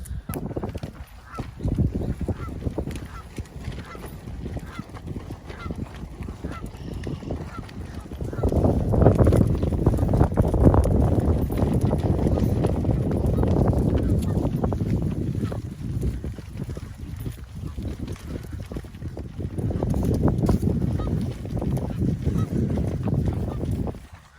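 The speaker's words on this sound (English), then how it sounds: "There's a bunch of Canadian geese here." Canada geese honk repeatedly in an outdoor flock, the calls mixing with wind and water noise, growing louder in bursts and staying fairly close throughout.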